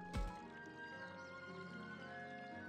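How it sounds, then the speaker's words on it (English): A babbling brook in the video game Digimon Survive: steady trickling, gurgling water under soft background music, with a brief thump at the start. "If I listen closely, I can hear the sounds of the babbling brook"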